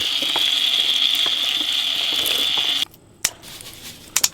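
Cold water pours in a steady, fairly close gushing stream for nearly three seconds, then cuts off, followed by a few light knocks and clatters.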